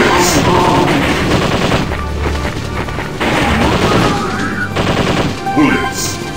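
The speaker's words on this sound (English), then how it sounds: "Machine gun. Bullets." Rapid machine-gun bursts and heavy gunfire from the Dreamcast co-op game Zombie Revenge, loud and nearly continuous, with booming impacts throughout.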